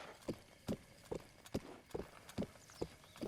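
Horse hooves clip-clop in a Hyrule video game, eight evenly spaced hollow hoofbeats at a steady walking pace, fairly soft and close with no talking.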